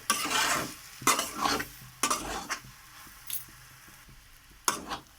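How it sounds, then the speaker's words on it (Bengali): A spoon scrapes and stirs a thick potato filling in a pan as it sautés and dries out, making repeated bursts of scraping and clacking about once a second over a soft sizzle, with no voices. "ভালো করে আলুটা প্রায় কষানো হয়ে এসেছে। একদম জল শুকিয়ে নিতে হবে।"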